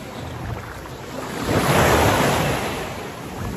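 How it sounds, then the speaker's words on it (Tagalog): Sea waves roll in and wash onto an Albanian island shore, swelling to a louder surge midway before easing back, with wind buffeting the microphone. "Po, yung dagat. Dagat nila dito."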